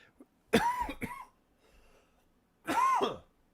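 Two sharp, close coughs, a short pause, then a third cough, with quiet room tone between.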